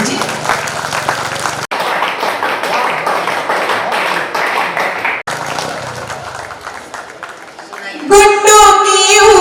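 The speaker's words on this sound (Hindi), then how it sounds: "एक बार जोरदार तालियां बजा करके मुझे स्वीकृति दे दीजिए" An audience at a kavi sammelan poetry recital claps loudly and continuously in a dense wash of applause, with a couple of brief dropouts, before it gives way to another sound at the end.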